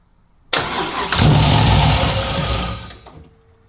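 A Nissan 240SX with a freshly installed engine starts up and is revved under throttle, a close, loud engine roar that swells and holds for about two seconds before dropping back, with no talking.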